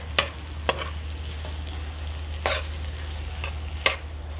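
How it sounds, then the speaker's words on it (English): Mashed potatoes frying in a pan for Trinidad-style spicy aloo choka, a steady close sizzle with several sharp clicks of a spoon or spatula stirring against the pan, no voices. "So now I'm going to cook this up. Fry it up a little bit."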